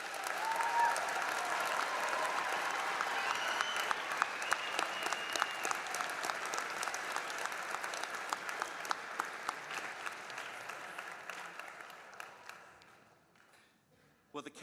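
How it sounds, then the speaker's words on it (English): A commencement audience applauds bachelor's degree recipients at a December graduation ceremony, a sustained, full round of clapping from a large crowd that gradually fades out near the end. "Let's give the bachelor's recipients a round of applause."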